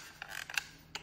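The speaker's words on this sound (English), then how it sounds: "I'm just gonna peel this off." Plastic creaking and snapping as a part is peeled off a leaf blower during teardown, with a few short close cracks and a stretched creak, heard alone.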